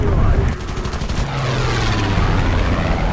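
Aircraft machine guns rattle in War Thunder during a fighter test flight, rapid bursts over a loud, steady engine drone, with a player's voice talking at times.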